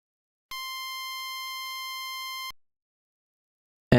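A whiny, buzzy chiptune tone for a GB Studio game called Pyrotoad holds steady and fairly loud for about two seconds, then cuts off, followed by a brief bright blip at the very end.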